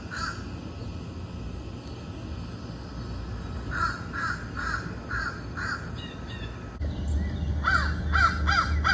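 Several crow caws ring out in a short rhythmic series, a pause, then another burst of cawing near the end, fairly close and clear over a steady low background rumble, with no talking.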